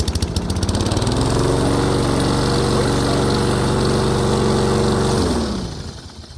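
A Toro Recycler 22-inch FWD self-propelled gas lawnmower runs at a steady, loud, close drone, then its engine note drops away near the end as it winds down.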